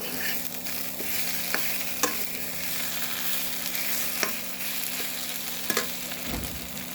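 Spice paste stirred and frying in a pan for a Bengali katla fish curry, a steady close sizzle broken by sharp scraping clicks of the spoon, with no talk.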